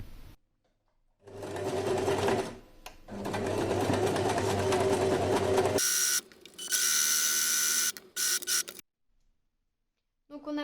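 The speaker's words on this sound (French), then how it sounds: "passer un point à la machine au plus près du bord tout le long" A sewing machine stitches fabric close to the edge while making bias binding, running in several loud sustained bursts separated by short pauses, with the pitch shifting between runs.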